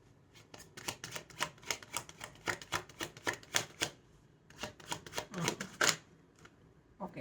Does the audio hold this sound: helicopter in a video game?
no